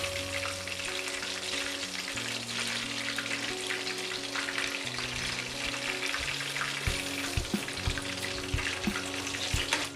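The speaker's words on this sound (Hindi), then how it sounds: "और इसी तरह हम दूसरा चिकन भी इसी तरह हाफ फ्राई कर लेंगे।" Chicken pieces half-frying in hot oil for an Old Delhi Jama Masjid–style wedding chicken fry, with a steady, dense sizzle and crackle running throughout at close range, no one speaking.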